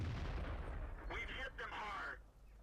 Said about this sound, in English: And puts a couple of cheeky rounds in.